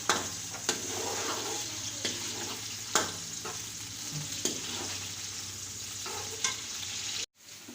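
Chopped onions fry and brown in a hot pan for a Murgh masala, a steady close sizzle with the occasional clack of a spoon stirring, no voices, before the sound cuts off abruptly near the end.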